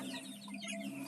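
Chickens kept at a rural backyard coop cluck and chatter together, a brief busy flurry of close hen calls.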